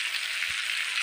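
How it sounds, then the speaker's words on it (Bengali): Prawns frying in a pan give a steady, close, bright sizzle that carries on unbroken, with one soft low bump near the middle and no talking. "চিংড়ি মাছ ভাজা হচ্ছে"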